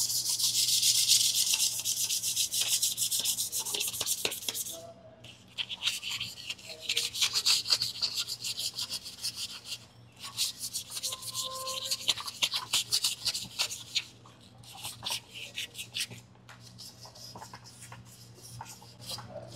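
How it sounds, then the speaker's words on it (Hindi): Rusty metal is rubbed by hand with 150-grit sandpaper before yellow metal primer is applied. Gritty scraping comes in several long bursts of quick back-and-forth strokes, close and fairly loud, with short gaps between rounds. "दोस्तों इस तरह की जंग लगी हुई चीज़ों को घिसने के लिए हम 150 नंबर का सैंड पेपर यूज़ करें।"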